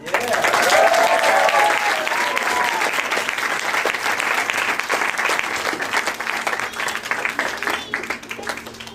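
An audience applauds a choir at a school performance, dense clapping that starts strong and gradually thins out, with faint crowd murmur and a brief voice underneath.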